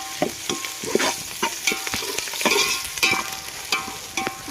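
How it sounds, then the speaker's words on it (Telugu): Onions and ginger-garlic paste frying in a pan, a close crackling sizzle punctuated by regular scraping strokes of a spoon stirring, alone without any speech. "ఉల్లిపాయ అయితే ఫ్రై అవుతున్నాయి కదా, అదేవిధంగా అల్లం పేస్ట్ కూడా వేసేసుకున్నాం"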